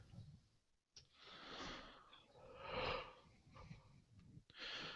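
A person yawns with long, breathy drawn-out exhalations that swell and fade across a few seconds, close and fairly soft, with no talking.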